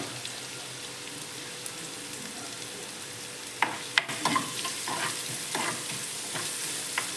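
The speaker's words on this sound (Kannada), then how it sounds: "ಸ್ವಲ್ಪ ಫ್ರೈ ಆಗಬೇಕು ಕೆಂಪಿಗೆ ಸ್ವಲ್ಪ ಅರಿಶಿನ ಪುಡಿ ಹಾಕ್ಕೊತಾ ಇದ್ದೀನಿ" Cluster beans fry in a pan with turmeric and salt, giving a steady soft sizzle with scattered clinks and scrapes of stirring toward the end.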